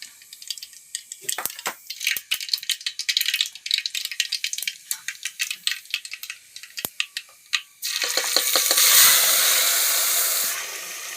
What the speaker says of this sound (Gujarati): તો આપણું તેલ આવી ગયું છે. આપણે એમાં સરસ મજાનું જીરું રાઈ નાખી દેવી.